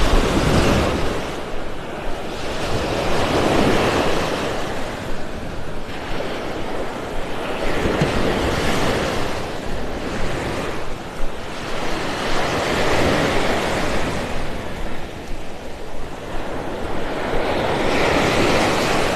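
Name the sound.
ocean waves on a beach in Naples, Florida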